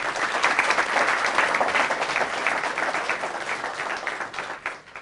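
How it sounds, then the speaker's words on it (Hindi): Loud, sustained applause from a crowd, dense clapping that fades slightly toward the end. "दोनों के लिए जोरदार तालियां"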